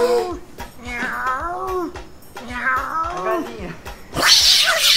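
A person imitates a cat in heat with drawn-out, wailing yowls in two long rising-and-falling cries, followed by a harsh breathy hiss.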